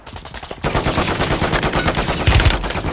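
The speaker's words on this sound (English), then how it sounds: "Taking enemy fire." Rapid automatic gunfire from a Call of Duty Modern Warfare 3 Resurgence match, a dense loud rattle of repeated shots running almost continuously after a brief quieter start, with a heavier burst near the end.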